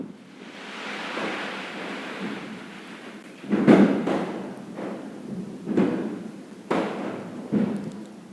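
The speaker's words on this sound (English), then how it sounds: "And now for some firework entertainment." Fireworks pop and burst at a distance, four or five muffled booms spaced irregularly over a low, windy rumble.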